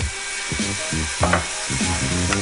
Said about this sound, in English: I'm going to let it saute a little bit more